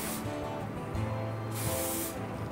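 Two short hissing bursts of an aerosol spray, close and fairly quiet, with a brief pause between them.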